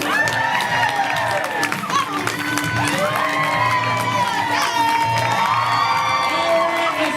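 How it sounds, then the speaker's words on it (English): A live audience at a staged game-show event hoots, hollers and lets out rising woos over scattered clapping, a loud, lively crowd roar that swells in waves while a voice talks over it. "Hooting and hollering becomes acceptable at a level 4"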